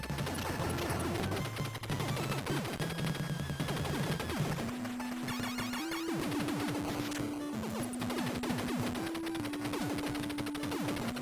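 Gun turret fire in the NES game Super C rattles in rapid, crunchy chiptune bursts over stepping bass music, sharp and busy throughout.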